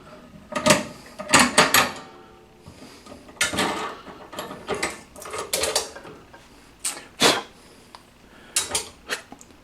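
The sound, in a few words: flare tubing kit tightening down to form a double flare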